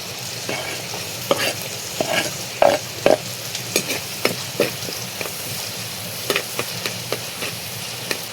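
Ginger, garlic and shallots frying in coconut oil in a pan, a bright continuous sizzle broken by repeated sharp stirring clinks and scrapes at an irregular pace, close and loud, with no voices.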